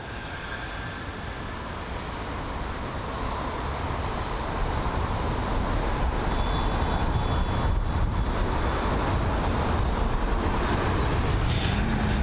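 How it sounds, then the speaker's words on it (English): Air Malta Airbus A320neo jet at London Heathrow, a steady broadband engine roar that swells louder midway and holds, heard at a distance with no talk. "It's the Malta A320 Neo."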